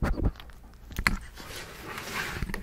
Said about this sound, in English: Hope you enjoyed that doggy ASMR.